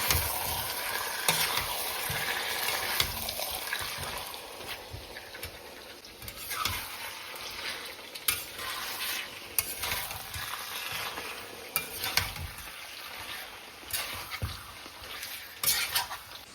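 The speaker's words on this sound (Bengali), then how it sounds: "আগে মাংসটা ভাজবো, ভালো করে কষাবো" Chicken pieces fry in a pan with onion, garlic and chilli, a steady close sizzle broken by frequent scraping stirs and clanks of the utensil against the pan, no talk.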